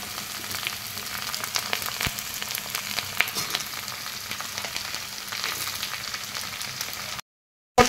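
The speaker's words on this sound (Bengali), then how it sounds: "এরপর এখানে কেটে রাখা ক্যাপসিকামটা দিয়ে দেবো" Chopped capsicum and onions frying in a pan for chilli mushroom, giving a steady close crackle with scattered spatula clicks and taps, ending in a short silence and a brief burst.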